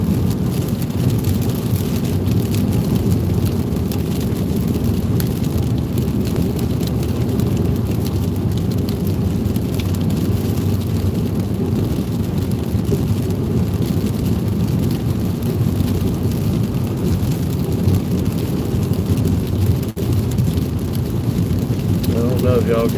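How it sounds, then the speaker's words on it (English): Strong wind roars steadily through a night thunderstorm between Shelbyville and Bardstown, Kentucky, a dense low rumble that holds at constant loudness for the whole stretch, with little rain audible beneath it. "the wind is blowing extremely hard outside"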